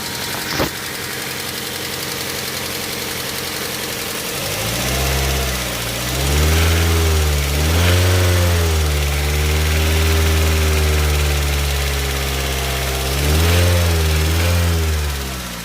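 After a sharp click, a nearby Daihatsu Xenia engine, rough after being rebuilt, idles unevenly, its pitch rising and falling in slow surges.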